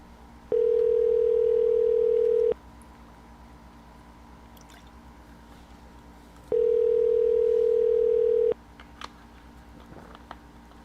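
Two long, steady ringback tones on a telephone line during a prank call, each about two seconds with a pause between, ahead of a voicemail forward, followed by faint clicks and line noise.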